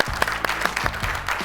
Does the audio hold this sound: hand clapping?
yes